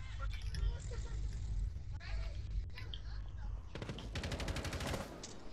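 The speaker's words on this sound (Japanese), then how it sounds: "ガレージ側から射撃だと。" Gunfire from the garage side in Rainbow Six Siege: a rapid, evenly spaced burst of automatic shots late in the moment, fairly quiet beneath people talking.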